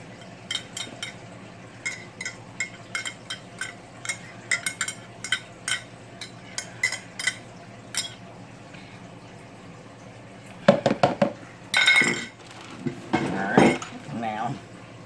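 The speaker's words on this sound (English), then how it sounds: "I just mash them up with a fork" A fork mashes boiled eggs in a bowl for Southern egg salad, with repeated close clinks and scrapes of metal against the dish, faster in sharp bursts near the end.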